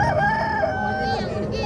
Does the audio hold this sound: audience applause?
no